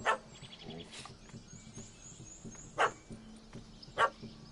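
A dog barks in The Witcher 3 video game, several sharp, fairly near barks spaced across a few seconds over a quiet ambient bed with faint bird calls.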